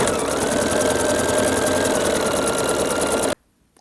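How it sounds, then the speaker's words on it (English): A sewing machine stitches a quarter-inch seam joining two fabric edges, a fast, steady mechanical whir with a rapid needle rhythm, loud and close, stopping abruptly just before the end, with no talk. "we're going to stitch a 1/4 inch and sew those together"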